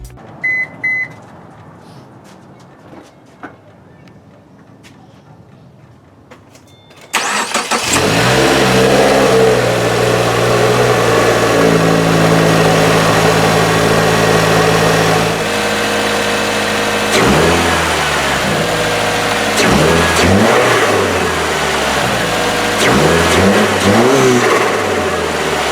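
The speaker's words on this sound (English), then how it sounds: "I'm just going to give you guys a couple of revs, see how it sounds" A 2017 Subaru Forester XT engine with a newly installed AEM cold air intake idles quietly, then roars to life and revs loudly several times in a row, close by, pitch rising and falling.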